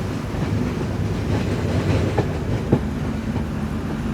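A steady, close rumble of the Jaffna–Colombo Intercity Express rolling on rails, with faint rhythmic clicks of wheels over track joints and no voices.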